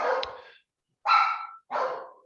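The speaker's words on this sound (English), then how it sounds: "You'll have to ignore the dog." A dog barks three times indoors, each bark sharp and fairly loud, with short pauses between them and no other sounds.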